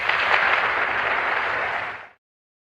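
An audience breaks into dense, steady applause after an archival speech about prevailing in Vietnam. The clapping holds at full strength for about two seconds, then cuts off abruptly into silence.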